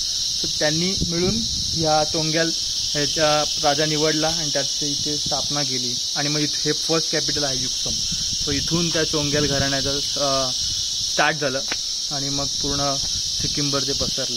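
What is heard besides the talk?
crickets chirping in daytime at Yuksom, Sikkim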